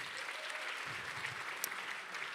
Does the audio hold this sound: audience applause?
yes